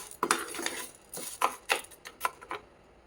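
Dry-fried lentils scraped and scooped from a metal pan into a bowl, a handful of close, clinking scrapes and taps in quick irregular bursts with no talk.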